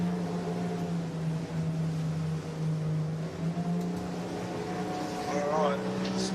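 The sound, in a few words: skiff boat engines roaring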